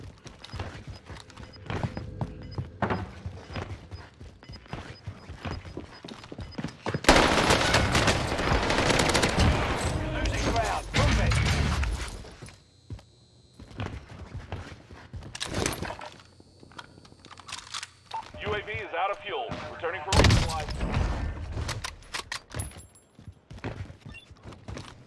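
Submachine gun fire from the STG in Call of Duty: Warzone on Rebirth Island, with loud bursts of rapid shots clustered in the middle and near the end amid game ambience and scattered smaller effects.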